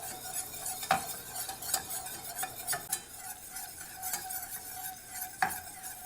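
A roux of fat and flour cooking in a pan, with a soft steady sizzle, a whisk or spoon scraping around it, and a few sharper clinks against the pan.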